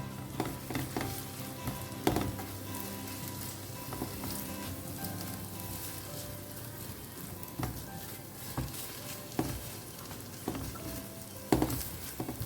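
Goan prawn balchao masala is stirred and fried in a pan over a medium flame, giving a steady soft sizzle with occasional louder scraping stirs against the pan.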